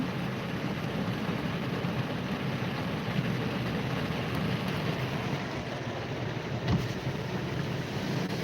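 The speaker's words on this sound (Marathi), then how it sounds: "तुम्ही या ठिकाणी पाऊस बघू शकता किती मोठ्या प्रमाणात पडतोय" Heavy torrential monsoon rain falls in Sinnar, Nashik district, a dense, steady roar of broadband noise with wind buffeting the microphone, continuous and loud throughout with no voices.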